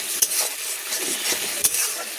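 Masala frying in oil in a pan while cooking a giant freshwater prawn curry, a steady close crackling sizzle with a couple of sharp stirring clinks.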